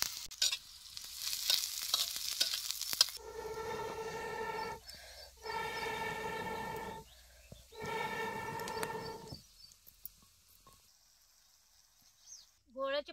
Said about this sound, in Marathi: आता तेल गरम झालंय, आता चिरलेला बारीक कांदा टाका.